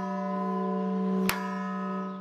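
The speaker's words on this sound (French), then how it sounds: "toutes les heures, on entend ce carillon" A church carillon bell rings in the bell tower of the Saint-Joseph church at the Aulne abbey site, giving a sustained, resonant ringing tone with one sharp strike partway through.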